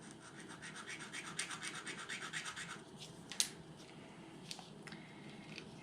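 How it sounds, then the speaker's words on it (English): An emery board files down a small wooden acoustic guitar part to adjust a miter angle, making quick rhythmic rasping strokes up close for a few seconds, then a few isolated scrapes and a sharp tap. "I'm just using this little emery board here to file some length off of here"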